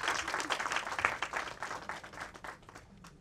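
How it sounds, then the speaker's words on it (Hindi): Enthusiastic applause from a crowd at a Bhojpuri film's first show, dense steady clapping that holds for a few seconds and then begins to taper off. "दोस्तों इन दोनों के लिए एक जोरदार ताली बजाइए"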